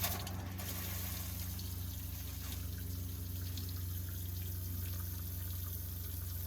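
Water runs steadily from an RV faucet during winterization, a continuous close hiss and trickle with no talk.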